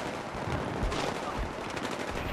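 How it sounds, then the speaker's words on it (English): Battlefield 3 gunfire, a steady stream of rapid automatic shots with a few louder cracks standing out, heard up close and constant without pause. "I've shot him about 8 times."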